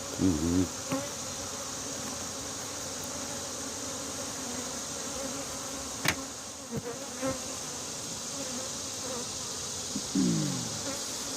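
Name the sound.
honeybees buzzing around hive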